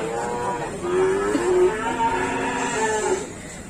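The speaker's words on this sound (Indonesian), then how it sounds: "Pedetan umurnya sekitar 5 bulanan seperti ini, teman-teman." A roughly five-month-old calf at the Gondanglegi cattle market gives a long, loud, drawn-out moo, its voice wavering over several seconds against steady market background noise.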